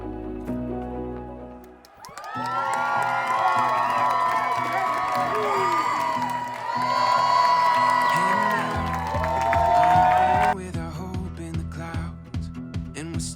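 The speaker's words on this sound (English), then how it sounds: "Come on, we can clap for that." A crowd at a wedding breaks into sustained applause, cheering and whoops right after the vows, loud and steady with music playing underneath.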